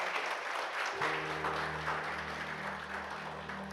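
A church congregation applauds a first-time visitor during a worship service, with broad steady clapping over a low sustained organ or keyboard tone that enters partway through.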